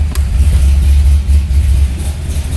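A Corvette Z06 engine with its exhaust valves closed rumbles steadily with a deep, muffled low drone, close and fairly loud, without revving.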